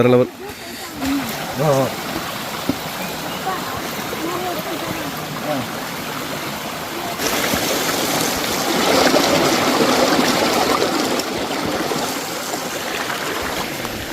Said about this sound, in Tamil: ஒரு ஓடை சூப்பராக ஓடிக்கிட்டு இருக்கு பாருங்க